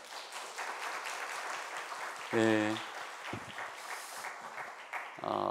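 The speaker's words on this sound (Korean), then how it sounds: "우리 주님의 마음으로 한번 박수 한번 줄까요?" A church congregation applauds its young worship team with a soft, steady patter of clapping, while a voice briefly speaks up over it.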